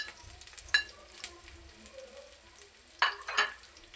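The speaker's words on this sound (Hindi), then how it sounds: "अब मैं करूँगा इसको हल्का सा फ्राई, हल्का सा ब्राउन करना आपने।" Onion and eight whole green chillies fry in a pan, a quiet simmering sizzle broken by a few sharp spatters and stirring clatters, close and with no talking.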